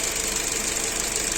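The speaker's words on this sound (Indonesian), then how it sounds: "Suara mesin jadi super halus, hanya terdengar suara injektor saja, suara mesinnya lenyap." A 2019 Nissan Livina idles smoothly after a Blackcore tune-up, a low steady hum with a fine, even injector ticking running through it, close and constant.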